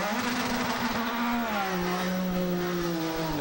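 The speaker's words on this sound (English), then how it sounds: "JC France making a lot of noise as he's doing his pit stop there" A Grand-Am Rolex Sports Car sits at its pit stop in Montreal, its engine droning loudly and steadily, with a tone that sweeps downward and then holds through the whole stretch.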